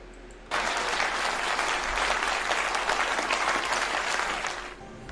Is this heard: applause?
yes